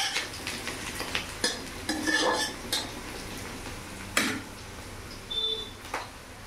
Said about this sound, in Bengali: পেঁয়াজটা একটু ভাজা ভাজা হয়ে দিই